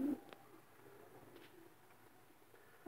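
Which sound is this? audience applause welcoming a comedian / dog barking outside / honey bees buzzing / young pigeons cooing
young pigeons cooing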